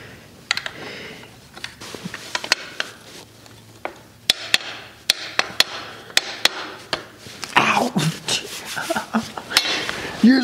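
A series of sharp, irregular taps and knocks as a screwdriver is used as a hammer on an electric unicycle, repeating unevenly and growing busier toward the end.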